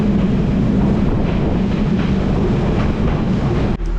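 Loud, steady rumble and rattle inside a moving third-class passenger train in Sri Lanka, a continuous low roar of wheels and carriage noise with a brief clunk near the end.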